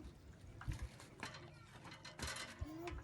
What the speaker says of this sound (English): I'll continuously stir it for about 5 minutes.